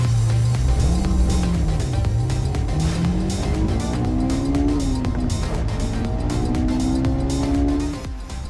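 A 2023 Porsche Cayenne Turbo GT with its twin-turbo V8 shared with the Lamborghini Urus, revving and pulling hard through rising gears, a loud close engine note with tire noise, easing off at the end.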